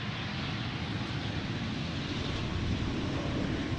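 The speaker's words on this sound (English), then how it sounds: "Almost missed out on the landing of another Embraer, which you don't see every day over here at Schiphol." Steady broadband jet roar from an Embraer aircraft landing at Amsterdam Schiphol Airport, a continuous rumble holding level throughout without talk.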